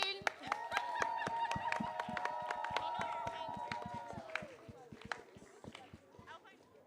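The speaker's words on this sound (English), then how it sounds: "Please keep clapping, keep clapping." Rhythmic handclaps ring out at a fourth-anniversary celebration for Breeding Arena College, sharp and evenly spaced beneath a sustained voice, thinning out toward the end.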